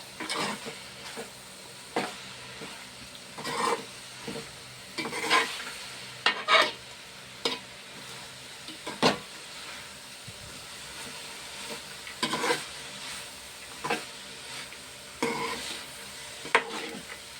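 Green chillies and ginger paste fry in a pan with steady sizzling, broken by repeated scraping stirs of a spoon at an uneven rhythm, close and moderately loud with no talking.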